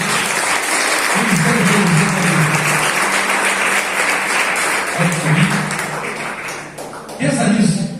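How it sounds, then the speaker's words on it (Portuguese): Church congregation applauding loudly, with broadband clapping sustained through the passage and a voice and music-like tones sounding underneath in places. "Você pode dar uma salva de palmas a Jesus?"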